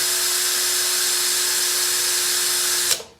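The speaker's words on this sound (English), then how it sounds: "I'm just letting the drill really nice and smoothly get through there." A power drill drills out a rivet on an RV-14 aircraft with a steady, high, continuous whine at constant speed, close and loud, winding down abruptly at the end.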